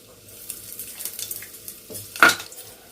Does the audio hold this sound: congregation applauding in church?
no